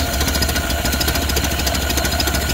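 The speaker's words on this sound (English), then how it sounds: "it's idling really nice" An old Ford Model A car engine idles at a low, even chug, loud and close, with a steady knocking rhythm and no voices.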